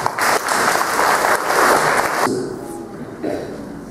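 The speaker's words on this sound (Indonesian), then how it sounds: "kita beri tepuk tangan untuk Dr. Stan" A crowd claps for a doctor at a health gathering in Kupang, with loud, dense applause for about two seconds that then cuts down to quieter room sound and scattered claps.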